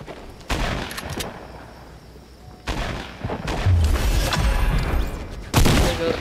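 Fortnite gunfire on Nintendo Switch: sharp bursts of shots in separate clusters, loud at the start and picking up again in a longer volley with heavy booms near the end.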